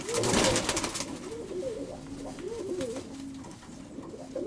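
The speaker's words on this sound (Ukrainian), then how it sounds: "Гарнюсінький голубок." A pigeon coos softly nearby in low, rolling phrases repeated several times, with faint rustling and background noise around it.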